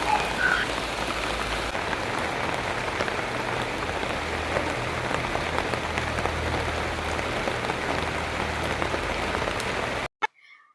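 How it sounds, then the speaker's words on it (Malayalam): Steady rain falls in a continuous hiss on wet ground and surfaces, moderately loud and unbroken, with faint frog croaks mixed in and no voices. "ഇവിടെ ഇപ്പൊ മിക്കവാറും ദിവസം അല്ലെങ്കിൽ രാവിലെ രാത്രിയിലൊക്കെ ആയിട്ട് മഴ ഇങ്ങനെ പെയ്തുകൊണ്ട് തന്നെയാണ്"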